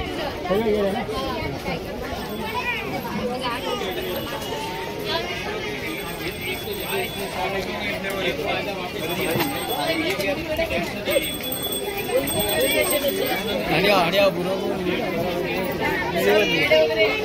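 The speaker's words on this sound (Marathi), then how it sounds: "फुल गर्दी, फुल गर्दी।" A crowded Ghrishneshwar Jyotirlinga temple, with dense overlapping chatter from many people close around, a constant busy babble and occasional faint ringing tones, continuing throughout.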